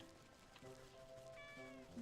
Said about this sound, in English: Cat sounds in this are cute.